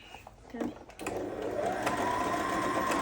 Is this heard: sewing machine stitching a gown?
yes